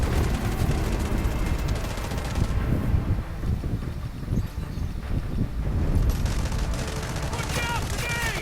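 Gunfire rattles in the video game Delta Force: sustained, rapid automatic bursts layered with heavier reports, loud and continuous throughout, while a player's voice talks over the action.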